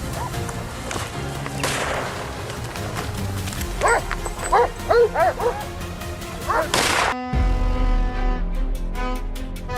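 Hunting dogs bark and yip in rapid, overlapping bursts as they hold a large boar at bay on a hillside, with a few sharp, loud yelps in the middle and a constant outdoor background.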